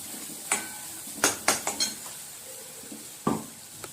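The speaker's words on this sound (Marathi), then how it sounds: "आपण छान करीला तेलामध्ये फ्राय करूया" Curry paste frying in oil in a pan for egg curry, heard as a soft background sizzle broken by several sharp clinks and scrapes of a utensil against the pan.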